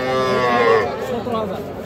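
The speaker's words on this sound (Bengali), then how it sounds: "এটা শাহিওয়াল জাতের একটা বকনা বাছুর" A Sahiwal heifer calf gives a single close, loud moo that falls in pitch, with faint chatter around it at a cattle market.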